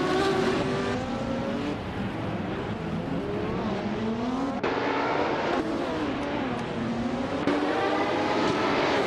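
Classic 1970 Porsche 917 LL race car in a racing game, a loud continuous engine howl rising and falling through gear changes, with overlapping engine tones of other cars nearby.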